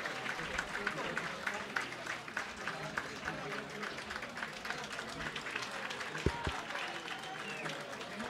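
Stadium crowd applauding during a player substitution at a Greek third-division football match between Achaiki and Panachaiki, steady broad clapping that runs throughout, with a few sharp low thuds near the end.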